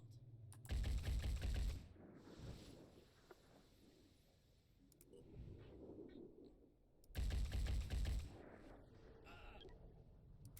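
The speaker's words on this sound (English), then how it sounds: "Missed with a pistol, unfortunate." Gunfire bursts in the tactical video game Phoenix Point, two loud rapid volleys separated by quieter ambient game sound, near and sharp.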